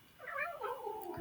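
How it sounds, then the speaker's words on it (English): A house cat lets out a single drawn-out, wavering meow close to the microphone in a quiet room, rising and falling in pitch over about a second. "Sorry, that was my cat."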